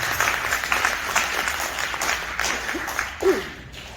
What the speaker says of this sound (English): I want you to please give him a round of applause